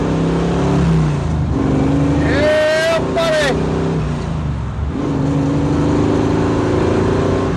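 A 1968 Chevy Camaro V8 revs and accelerates with a loud, steady engine roar that rises in pitch, with a brief whine, while someone speaks over it.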